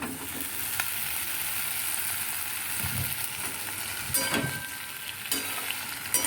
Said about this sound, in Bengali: এবারে আমি আমার যে ঢ্যাঁড়সটা যেটাতে আমি চালের গুঁড়ো শুকনো লঙ্কা গুঁড়ো আর জিরে গুঁড়ো ধনে গুঁড়ো মাখিয়ে রেখেছিলাম এবার সেটা দিয়ে দেবো